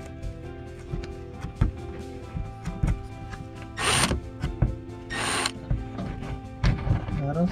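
A power tool unscrews the large fender liner screw on a Porsche Panamera 4S during bumper reinforcement removal, with two short whirring bursts close by. Clicks, knocks and rattling parts of workshop handling are heard around them.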